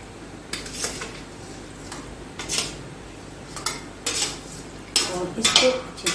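Macaroni and qeema being stirred together in a pot, with a spoon giving intermittent scraping and clinking strokes against the metal, moderately close, and no talking.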